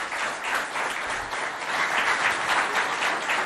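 A dense, steady wash of applause from a school audience cheering on competing contestants, loud and sustained for the whole stretch with no voices rising above it.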